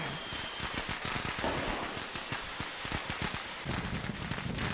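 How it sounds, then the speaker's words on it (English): Fireworks crackle and pop in rapid, dense bursts, a steady stream of sharp snaps close by with no talking. "The title of this scene was fireworks. So are we going to light one inside?"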